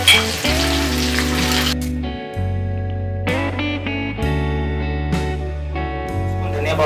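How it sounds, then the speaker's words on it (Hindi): Onion paste and a ginger, garlic, chili and coriander paste hit hot oil in a pan for misal, sizzling loudly and steadily up close, with a few stirring scrapes and a voice speaking over it. "अब डाल रहा हूँ कांदा का पेस्ट, अदरक लहसुन मिर्ची धनिया पेस्ट,"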